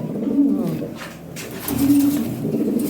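Lahori and Shirazi pigeons coo in low, throaty rolling calls, repeated twice, with a soft voice talking over them nearby.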